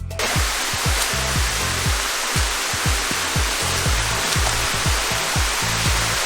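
Waterfall at Chenku Waterfalls rushing in a loud, steady broadband roar, with repeated low thumps like wind buffeting underneath.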